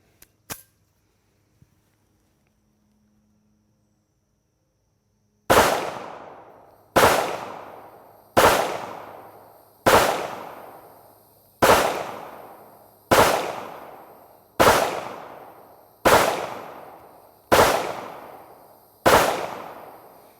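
Ten sharp Ruger LCP MAX pistol shots ring out at a steady pace toward targets 15 yards off, each loud crack trailing into a short decay, after a few faint clicks and a pause.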